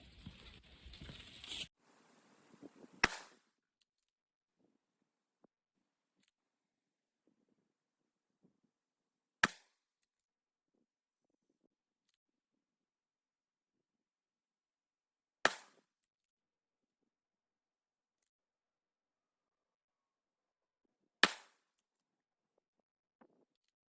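A 300 Blackout rifle firing Barnes 120-grain Tac-TX rounds at a target, four sharp single shots spaced about six seconds apart, each a loud crack with a brief tail, near-silence between them.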